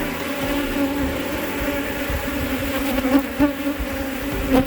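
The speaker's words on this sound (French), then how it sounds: "les abeilles sont autour de la cage" Honey bees swarming around a queen cage inside an open hive, producing a dense, steady, droning buzz close by, with a few louder swells near the end and no voices.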